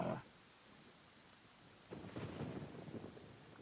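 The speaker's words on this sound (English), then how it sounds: "It's raining again?" Rain and rolling thunder from the Genshin Impact video game, a brief loud crack at the start, then a quieter steady wash of rainfall swelling into a heavier rumbling downpour.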